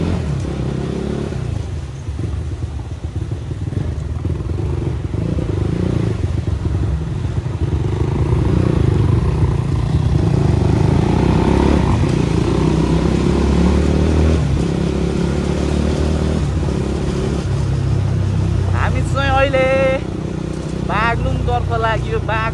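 A motorcycle rides along a dirt track, its engine a steady low rumble with clattering and wind noise throughout, and voices briefly chatter near the end.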